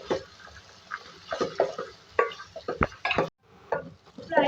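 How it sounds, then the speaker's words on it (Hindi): Ginger garlic paste fries in a pot while a spoon stirs it, giving soft sizzling under irregular clinks and scrapes of metal against the pot, close and fairly quiet. "अब इसमें अदरक लहसुन का पेस्ट ऐड करेंगे 2 खाने के चमचे। फ्राई करेंगे इसको भी इसके साथ।"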